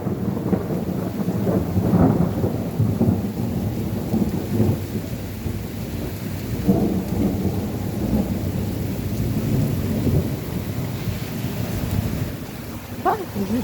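Deep rolling thunder after lightning rumbles on and off over steady rainfall during a strong summer storm in Montady, France, swelling and fading through the stretch with no one speaking.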